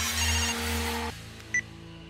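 A telephone rings electronically, tonal and steady, then cuts off, followed by a short faint beep over low background hum.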